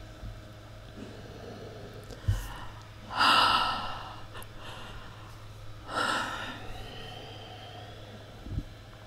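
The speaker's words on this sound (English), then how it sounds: "take a few deep breaths" Two deep breaths taken slowly in a quiet room, each a close, airy inhale-exhale swell a few seconds apart, with a faint steady hum beneath and small bumps between them.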